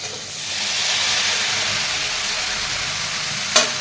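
Washed cauliflower drops into a hot pan with turmeric, setting off a loud, close, hissing sizzle that holds steady, with a brief sharp clink near the end.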